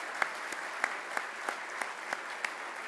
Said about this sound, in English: So please join me in a round of applause for the MAC staff.